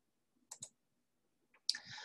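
Mouse clicks on a payment button: a quick pair of crisp clicks, then a lone soft tick and a louder click trailing into a brief hiss, close and isolated in near silence.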